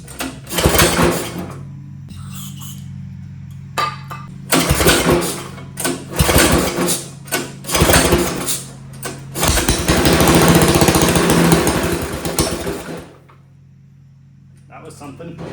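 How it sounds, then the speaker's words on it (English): A small go-kart engine with no fuel tank and a short tiny header, primed with brake cleaner, is cranked in bursts of loud rattling pulls, then catches briefly into a rough, harsh run for a few seconds before dying, with voices in between. "So I want to see if this thing will at least fire off on some brake clean."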